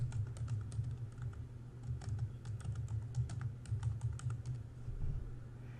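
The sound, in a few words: typing on a computer keyboard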